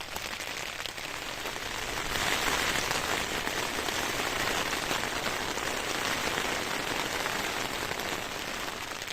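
Heavy rain drums steadily on a small tent during a wet motorcycle camping trip in the Scottish islands, a dense close hiss that swells slightly after the first couple of seconds and keeps going without a break.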